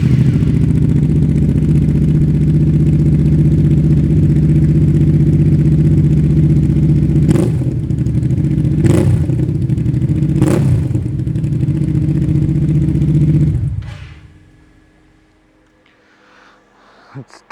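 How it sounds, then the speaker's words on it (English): Hyosung GV650 motorcycle with a custom-fabricated Barrel exhaust revving loud and close, a steady deep roar punctuated by three sharp throttle blips before the engine cuts off and falls quiet. "this exhaust is from Barrel and it's custom fabricated for my bike"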